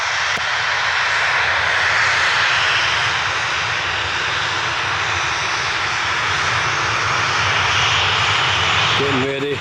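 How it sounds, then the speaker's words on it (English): A Jet2 airliner at Glasgow Airport, readying for takeoff, roars with a loud, steady engine rumble and hiss that holds at near-constant level throughout, with no pauses. "there's more planes coming up, sneaking up behind me"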